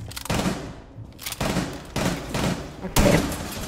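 Gunfire in Rainbow Six Siege comes in several separate loud bursts spaced about a second apart, each with a sharp attack and a short rumbling tail.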